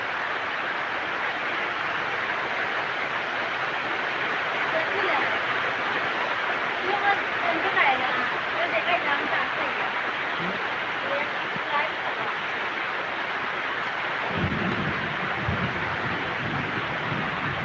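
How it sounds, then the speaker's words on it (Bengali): A summer storm with strong wind and rain roars outdoors in a dense, steady rush, with louder buffeting gusts hitting the microphone near the end. "এই যে দেখেন আম তুফানি হচ্ছে"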